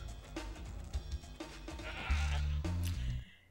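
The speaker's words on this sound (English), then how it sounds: "they're gonna feed the goat to the yeti" A goat bleats several times in the Spyro 2 video game, loud and close, with wavering cries over game sound that builds into a longer, sustained bleat near the end.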